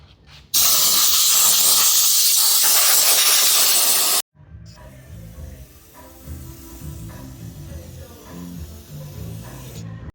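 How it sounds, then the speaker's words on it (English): A compressed air hose blasts a 2JZ engine block in a loud, steady hiss lasting about four seconds, then cuts off abruptly, leaving quieter workshop clatter and background music. "The first thing I'm gonna do is I'm gonna air hose it"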